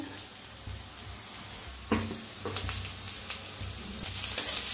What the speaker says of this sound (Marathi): त्याच्यात आता हिरवी मिरची, लसूण कुटलेला, शेंगदाणे, ते बी असं भाजून घेऊया छान असं